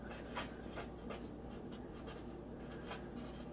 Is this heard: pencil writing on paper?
yes